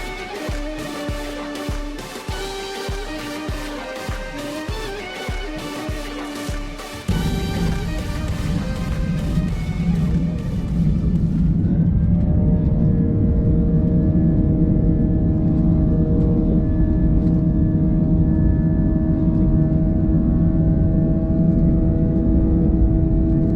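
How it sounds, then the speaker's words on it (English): An older IndiGo Airbus A320-200 taxis toward a single-runway airport. A rapid even ticking pulse opens, then gives way to a loud, steady broadband engine rumble and whine that continues unbroken. "Soon enough, the cabin doors were closed and we taxied out to the airport's only runway."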